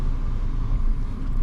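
A Nissan Sentra backing up slowly on a neighborhood road after a front brake pad and rotor change, heard as a steady low engine rumble held close and even throughout, with no talking.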